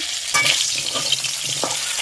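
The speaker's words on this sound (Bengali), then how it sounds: "এখন আমি ভাজা করে নিচ্ছি আলু" Potatoes fry on a lit clay stove with a steady crackling sizzle, broken by a few sharp scrapes and clinks of stirring up close, with no voices.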